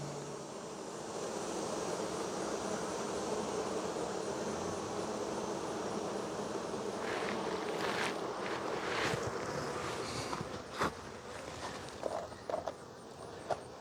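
Honeybees buzzing densely around a dropped hive frame, a loud continuous hum throughout, with a few knocks and handling noises toward the end.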